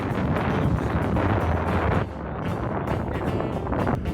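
Strong wind buffets the microphone on the Brazilian coast beside a motorhome, a loud continuous rushing roar that dips slightly midway and then keeps blowing, with no voices.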